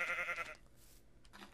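Sheep bleating in Minecraft with the Mo Creatures mod, a short nasal bleat followed by a brief quieter call, fairly close and with no talking over it.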